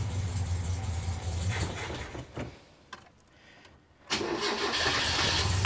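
A carbureted engine in a bagged mini truck running close and loud, idling rough, then dropping quieter for a moment before revving back up to a steady, strong drone.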